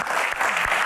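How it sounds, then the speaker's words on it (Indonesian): Studio audience applause at a Q&A show, a loud, dense burst of clapping heard up close, brief and sustained without pauses. "Tepuk tangan buat box kepo."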